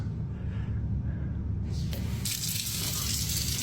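Steady rushing of water pouring from a tap, a continuous broadband hiss that brightens partway through, with no talking.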